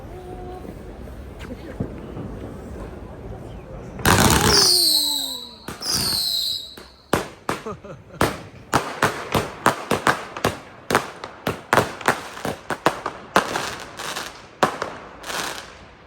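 New Year firecrackers going off in Berlin, a loud burst of bangs with whistling rockets, then a long run of sharp, rapid cracks close by, some echoing, as people talk in the background.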